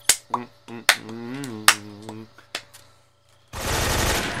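Automatic AK rifle fire in Metal Gear Solid 3, a sustained dense burst of rapid shots at the end, after several sharp single clicks and a voice speaking over a low hum.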